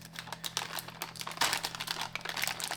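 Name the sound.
opening a plastic bag of ingredient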